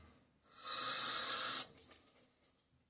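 A bathroom sink faucet gushes water for about a second, loud and close, then cuts off, followed by a few faint drips and splashes.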